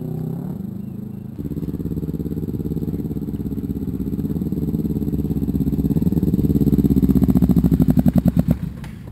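A 2015 Yamaha FZ-09 motorcycle engine drops in pitch with a gear change, then pulls hard and rises steadily, loud and close, ending in a rapid stuttering pulse as revs peak.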